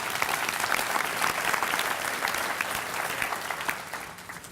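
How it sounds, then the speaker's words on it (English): An audience at a Greater Owensboro morning business gathering claps together, giving a dense, even burst of applause that holds steady and then thins out toward the end. "Let's give a round of applause to those renewals."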